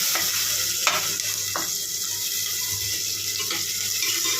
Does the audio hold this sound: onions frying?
yes